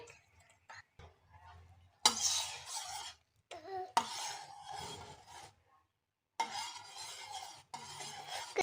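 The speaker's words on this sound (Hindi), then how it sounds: "अब हम इसमें कस्टर्ड शामिल कर देंगे आहिस्ता आहिस्ता से, और अच्छी तरह मिक्स करते जाएंगे ताकि कोई लम्स ना आ जाए।" Custard powder being stirred into boiling milk in a pot, with rasping scrapes of a spoon in repeated bursts separated by brief pauses, fairly close and moderately loud.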